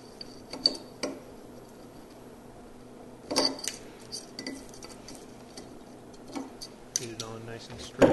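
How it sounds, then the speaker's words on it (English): Small metal clicks and ticks as the throttle key and chain of a Svea 123 brass camping stove are refitted to its burner stem, a few light taps and jingles scattered over about eight quiet seconds, close up. "just take the throttle key and the chain and just reattach it to the burner stem there however you like"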